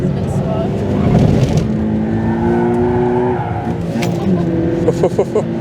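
A Subaru BRZ on a race track drones at high revs while overtaking a Honda NSX, the sustained engine tone shifting pitch through gear changes, with other cars nearby and talk over it.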